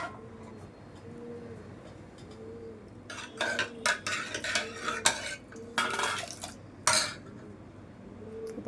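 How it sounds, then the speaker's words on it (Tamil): Cooked tomato soup ingredients being mashed with a ladle in a pot, giving a run of irregular metallic scrapes and clinks that grow busier and louder halfway through, over a low steady background hum. "நம்ம கரண்டியில் கடைச்சாலும் நல்லா சாஃப்டாகிடும்."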